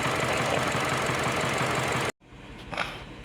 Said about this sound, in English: now the misfiring has jumped to cylinder 3 and it is still there